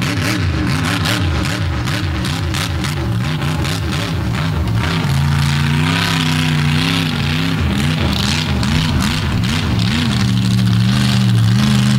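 The Flying Dump Truck drag racing truck from the Dirt Crew of Lafayette, Indiana, runs at Dragway 42, its heavy engine loping and revving up and down in loud close pulses, then holding a rough throaty idle.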